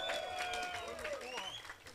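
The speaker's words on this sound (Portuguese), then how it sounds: "Salve de palmas, por favor." A crowd at a DJ battle in Brazil claps for a judge, quiet and fairly distant applause mixed with whistles, shouts and overlapping voices.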